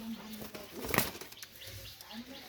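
Pigeons flap their wings in a loft, a quick burst of feathery beating peaking near the middle, with soft cooing and faint background murmur around it.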